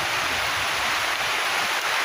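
Light rain falls steadily into a pond outdoors, an even, close, continuous hiss of drops with no voices over it.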